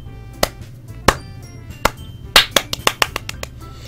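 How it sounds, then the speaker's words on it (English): In the Doki Doki Literature Club video game, applause begins as a few isolated claps and then quickens into a short burst of sharp claps, clear and close. "I'm the first to start applauding."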